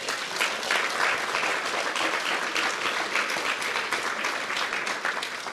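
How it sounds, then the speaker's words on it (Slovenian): An outdoor gathering in Braslovče gives a big round of applause for an organizer, thick continuous clapping from many hands, steady and fairly loud for the whole stretch. "En velik aplavz za Matejo."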